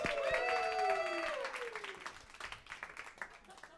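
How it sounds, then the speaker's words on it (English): Audience at a comedy show applauding, with a loud voice over the start before clapping builds into a rippling patter that thins out. "give a big round of applause to Chuck Berry and Elvis Presley"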